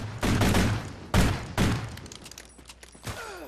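Three or four sharp, heavy gunshot bursts ring out in a video game fight, each followed by a short decaying tail, with quieter clanks and thumps between them.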